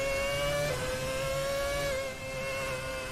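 Formula 1 car behind a Force India during 2009 winter testing at the Circuit de Barcelona-Catalunya, a high steady engine whine holding pitch with a slight dip, distant and thin, heard continuously for several seconds.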